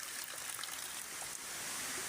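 Water pours steadily at a waterfall fed by a spring, a dense, continuous broadband rush close by and loud, with no talking over it.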